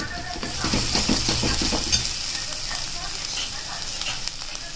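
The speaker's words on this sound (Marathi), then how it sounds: "आता हे छान प्रकारे आता आपण हलवून घेऊया" Spices with turmeric fry in a pan for butter matar paneer while being stirred, giving a loud, continuous close sizzle with rhythmic scraping strokes early on that then settle into a steady crackle.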